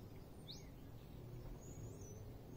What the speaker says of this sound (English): It's so noisy with birds.